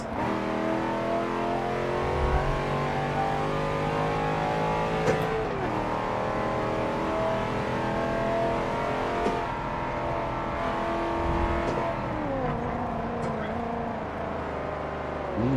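A Holden SS engine revs and drones continuously in a Forza Motorsport 7 race, with gear changes and brief tire noise, a loud sustained motor sound throughout, overlaid with someone talking.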